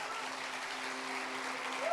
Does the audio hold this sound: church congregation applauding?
yes